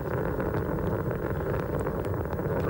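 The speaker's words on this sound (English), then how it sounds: "Three engines throttling down now." Space Shuttle Atlantis on the STS-86 launch, its three main engines throttling down through max Q, heard as a constant, loud, broadband roar with a deep rumbling low end and no audible talk.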